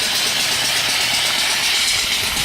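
A small steam engine driven by a boiler holding about 60, fitted with a temporary exhaust pipe beside an alternator, runs steadily with a loud, continuous hiss and rapid chuffing close by, with no talk over it.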